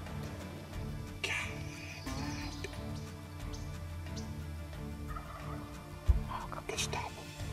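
A wild turkey gobbles in California countryside, a couple of loud rattling bursts rising over steady outdoor background with a vehicle nearby, no talking.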